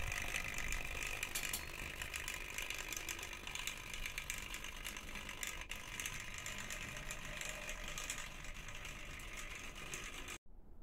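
A Hornby N15 model locomotive runs in reverse along the track, giving a steady, fine mechanical whirring and rapid ratcheting clatter of small motor and gears, close and continuous before cutting off abruptly near the end.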